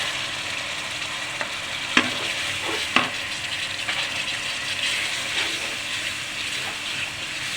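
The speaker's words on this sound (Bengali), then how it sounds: "এগুলোকে একটু ভালো করে কষিয়ে নিতে হবে।" Spice and almond paste sautés in a pan for egg korma, giving a steady close sizzle with a few soft stirring scrapes rising above it.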